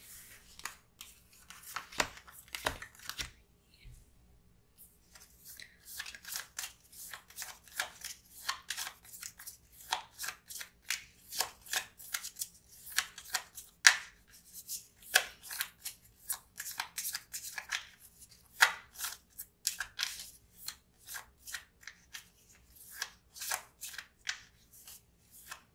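Cards from the X-Men edition of the Legendary board game are shuffled in quick, crisp riffling bursts with soft flicks, close and fairly quiet, repeating in rapid rhythmic runs over nearly half a minute.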